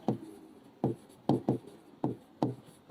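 Chalk or marker strokes on a classroom board during a maths lesson, a series of distinct short scratchy bursts in uneven rhythm, close and clear with no talk over them.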